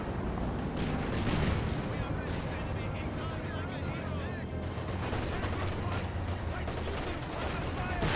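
Dense, continuous gunfire and artillery blasts from a Company of Heroes 2 battle with a grenade assault, loud and layered under steady commentary.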